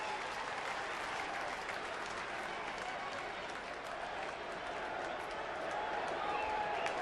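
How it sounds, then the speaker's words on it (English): Baseball crowd at PNC Park in the ninth inning, a steady distant roar of fans chanting and clapping, faint and continuous with no single voice standing out. "we're starting to hear some Fred E. chants"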